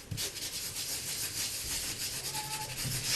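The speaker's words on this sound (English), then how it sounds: "I'm just going to grab a tissue and just wipe away the excess Always Artichoke ink" Tissue wiping excess Always Artichoke ink off a stamped card, a steady close rubbing and scuffing that runs continuously with slight rhythmic strokes.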